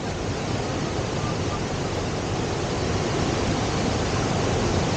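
A waterfall in Waterton Lakes Village, Alberta, roars as a constant broadband rush of falling water, close, loud and unchanging with no voices.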